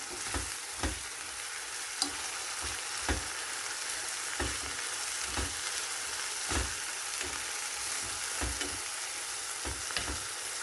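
Red pepper flakes and black pepper are stirred into a cooking pan over a soft, steady sizzle. A spoon taps and scrapes at regular intervals. No one speaks.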